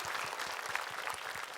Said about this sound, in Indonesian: tepuk tangan dulu untuk Syam.